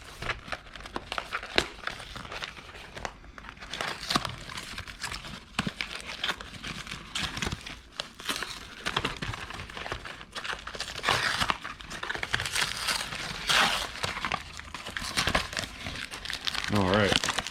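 Crinkling foil wrapper of a Magic: The Gathering Crimson Vow draft booster pack being torn open and handled, steady close rustling and crackling throughout, with a voice talking over it at times.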